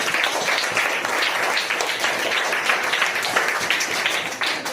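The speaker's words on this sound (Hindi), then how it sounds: "उनके स्वागत के लिए जोरदार ताली बजाइए" A crowd at a community event for ancestors' remembrance, where goods are handed out to children, claps steadily and fairly loudly in welcome, a dense continuous applause that tapers slightly at the end.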